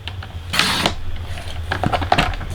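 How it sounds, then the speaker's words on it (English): A paper trimmer slices through cardstock with a short rasping swipe, followed by a few light mechanical clicks and taps from the cutter, close by with no speech. "let's go ahead and get the trimmer out, and let's cut this"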